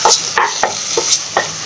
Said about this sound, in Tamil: இப்போ லைட்டாக இதை வந்து வதக்கணும், வெங்காயத்தோடு இதை வதக்கி விடணும்.